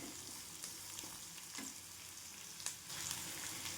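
Chopped capsicum and carrot sautéing in hot oil over a high flame, a continuous close sizzle and crackle with occasional scraping stirs and clinks of the spoon against the pan.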